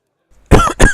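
A woman's harsh cough in a fantasy tabletop role-play scene, two close, loud bursts after brief near-silence, with no speech.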